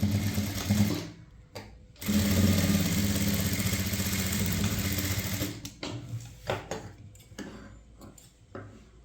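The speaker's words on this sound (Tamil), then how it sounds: "இப்போ இதில் தையல் போடலாம்" A sewing machine stitches a blouse in bursts: a loud, rapid whirring run close up, a short pause, then a long steady stretch that breaks into shorter, choppier bursts of stitching.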